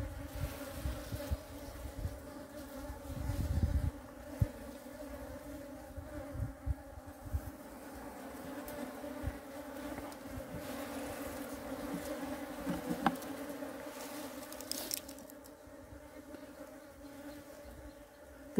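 Honeybee colony buzzing steadily around an open hive while brood comb is moved between colonies, a dense, continuous drone with close passing bees and no talk.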